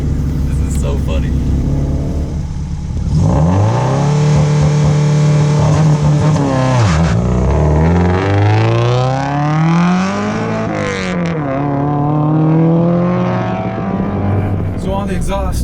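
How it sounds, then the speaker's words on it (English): A 460 hp Subaru Outback with a short shifter and tuned exhaust accelerates hard through the gears, its loud engine note sweeping up, dropping at each shift and climbing again, with people talking over it. "I'm amazed at how loud this car is."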